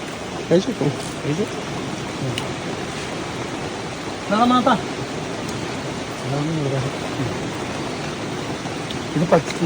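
Steady rain falls outdoors in a constant broadband hiss, while people talk briefly now and then over it.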